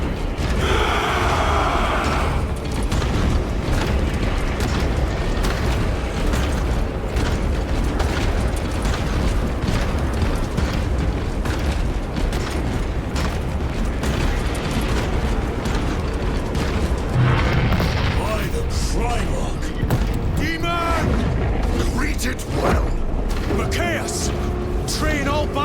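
Battle sounds from the Space Marine 2 video game: continuous heavy gunfire and booming explosions fill the scene at a steady loud level, with mechanical clanks, and voices talk over the din.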